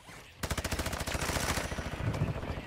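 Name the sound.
gunfire in video game Call of Duty DMZ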